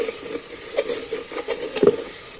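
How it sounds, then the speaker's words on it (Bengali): Spice paste for chicken curry sizzles and is stirred in a pan, soft frying crackle with several scraping stir strokes at an uneven rhythm, close and fairly quiet. "মশলাগুলোকে ভালো করে কষিয়ে নিচ্ছি"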